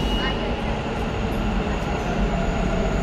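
A metro train stands at the station, giving off a loud, steady rumble and hum that fills the platform, with voices faint beneath it.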